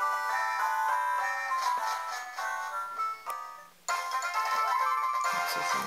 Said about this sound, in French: Ça c'est mon téléphone.